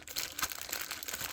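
A small plastic bag holding a model ship hull crinkles steadily up close, a soft continuous rustle with light crackling as it is handled.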